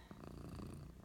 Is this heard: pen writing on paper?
no